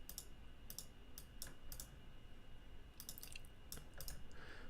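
Mouse and keyboard clicks while drawing artwork live in Adobe Illustrator: short, crisp clicks come in small clusters near the start and again toward the end over a steady low room hum, with no talking.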